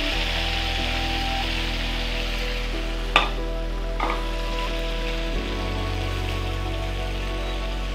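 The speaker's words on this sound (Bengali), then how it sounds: "মাংসটা একটু ভেজে নিতে হবে।" Spice-marinated chicken fries in a hot pan with garam masala and large cardamom over a high flame, a steady loud sizzle throughout, broken by a couple of sharp clatters partway through.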